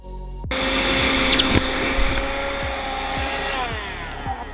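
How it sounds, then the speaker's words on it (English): A Karcher window vacuum cleaner switches on abruptly and runs with a steady high-pitched motor whine and airflow hiss, close and continuous, for a few seconds. "So this is a Karcher window cleaner."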